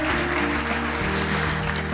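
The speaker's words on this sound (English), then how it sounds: "A big round of applause to architect Nick Sissons." A symposium audience claps for architect Nick Sissons, with sustained, even clapping throughout and a low steady hum or tone running beneath it.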